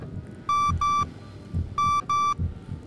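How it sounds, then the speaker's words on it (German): In the horror game Song of Horror, an electronic alarm beeps in two pairs of sharp, steady, high-pitched tones. Soft low thumps pulse quietly underneath. "Jetzt piepselt das da rum"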